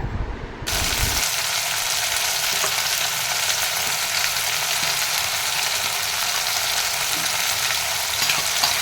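Masala paste of garlic, coriander, cinnamon, clove, onion and tomato drops into a hot pan for capsicum curry, bursting into a loud, close, continuous frying sizzle that holds steady to the end.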